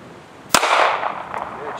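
Single sharp pistol shot at an outdoor gun club range, a loud crack followed by a brief rolling echo that fades, with a fainter report and a voice afterward.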